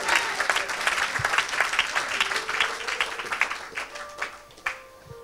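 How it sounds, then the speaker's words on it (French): A church congregation at a Sunday worship service bursts into dense, sustained clapping mixed with cheering. The applause is steady and full across several seconds, then gradually thins toward the end. "Est-ce que tu peux acclamer plus fort que ça?"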